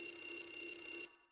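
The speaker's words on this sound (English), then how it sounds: "So then another phone is gonna ring" A telephone rings in the haunted-house game Luigi's Mansion, a single steady electronic bell tone lasting about a second before cutting off, fairly quiet and alone.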